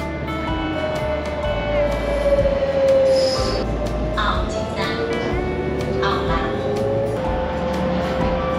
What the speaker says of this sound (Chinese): 火车进站了。